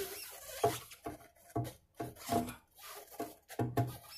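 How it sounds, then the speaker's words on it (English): Repeated short whirring bursts from a small power drill winding a nylon guitar string onto a tuning peg, about eight in a row with brief pauses between, close by and with no talking. "And I use my drill."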